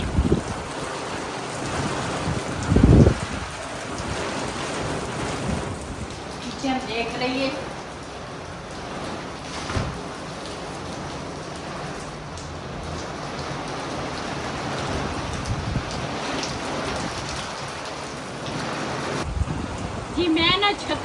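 Stormy rain falls steadily around a village house, a dense continuous hiss with occasional louder knocks and clatter, while someone talks over it throughout.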